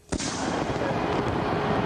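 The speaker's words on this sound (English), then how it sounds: "everyone loves fireworks" A sharp blast opens into a dense, continuous crackle and rumble of Sydney New Year's Eve fireworks going off, loud and sustained.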